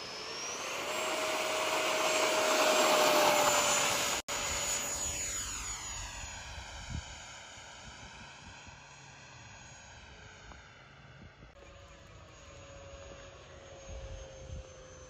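FMS 70mm F-18 Hornet RC electric ducted-fan jet on its maiden flight, a loud, steady high-pitched whine that builds as it passes close, then drops in pitch with a sweeping Doppler fade as it flies away into the distance.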